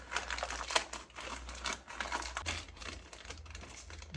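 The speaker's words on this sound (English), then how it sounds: "So I'm gonna start unwrapping everything and reassemble" Plastic packaging crinkling and rustling around new bumper parts for a 1966 Austin Mini Cooper S in a garage, with irregular close crackles and taps throughout and no talking.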